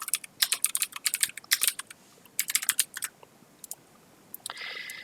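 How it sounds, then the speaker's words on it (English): Fingers type on a computer keyboard while writing JavaScript and CSS code, bursts of quick close clicks with short pauses between words, ending in a softer brief hiss. "we're gonna type font family"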